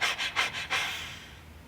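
Four quick, forceful breaths puff out in a rapid rhythm during Agnisara Kriya yoga breathing, close and fairly quiet, then fade into silence.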